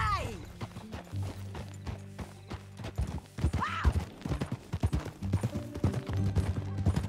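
Hooves clop in an uneven rhythm on hard ground in the video game Red Dead Redemption 2, with a horse's whinny partway through and a steady low drone underneath.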